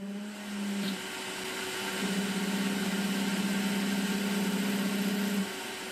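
A Makera Z1 CNC mill runs a single-flute 1/8-inch end mill through a boring pass on a 3.3 mm hole, giving a steady, fairly loud machining whine with a small pause near the start and an even drone after.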